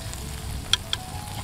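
Minced lemongrass and chili sizzle in a hot pan over an outdoor fire while frying for pork belly with shrimp paste, a steady crackling hiss with a couple of sharp pops.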